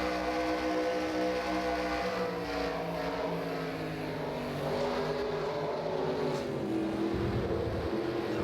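Race truck engines from an NRSL truck series sim racing game heard onboard, a loud continuous droning whine with pitch sweeping up and down as the trucks accelerate and lift, steady and close throughout.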